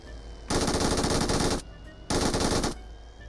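Loud automatic gunfire from PUBG Mobile, two sustained bursts of rapid shots separated by a short pause, close and dominant with no talking.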